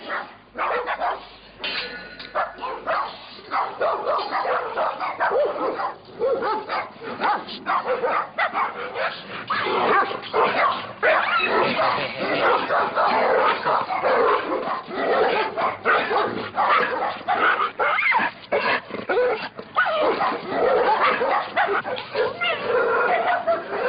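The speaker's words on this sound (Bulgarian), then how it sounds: "Моите кучета определено реагират." Several dogs bark, yip and whimper loudly and almost without pause in reaction to a pit bull, an excited chorus of close, overlapping barks with occasional human voices mixed in.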